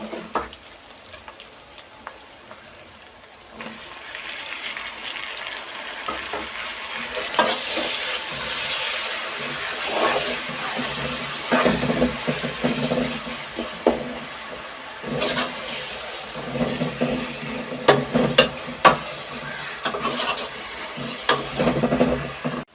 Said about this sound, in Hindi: मसाले को 2 मिनट अच्छे से भून लेंगे। इसके बाद इसमें टमाटर डाल देंगे।